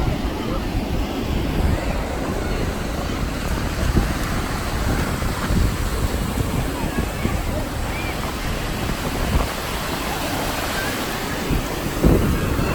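Ocean waves wash steadily onto Santa Monica beach in a continuous broad roar, mixed with gusty wind buffeting the microphone, with voices talking faintly at times.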